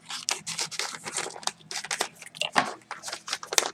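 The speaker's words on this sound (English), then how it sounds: "Then I took the scissors." Scissors snip repeatedly through paper folded twice over, a quick run of close, crisp cuts with crunchy crinkling between them and no voices.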